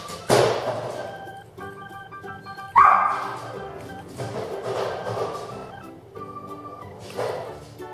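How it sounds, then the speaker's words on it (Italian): A dog barks indoors nearby, with a couple of loud sharp barks and a few softer yips spaced out over the clip. "Se sentite rumore è Saga, il cane, quindi non vi preoccupate"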